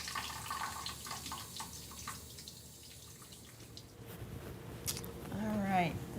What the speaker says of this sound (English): Repeat the cleaning and rinsing process with the other denture if the patient has one.